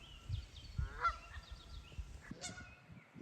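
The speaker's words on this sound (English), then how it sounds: "Some geese." Geese honking at an outdoor pond beside a small footbridge, several loud calls ringing out near and then farther off over soft outdoor background noise.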